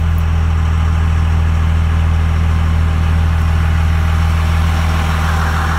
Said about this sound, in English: Good old Cummins. Never let me down yet.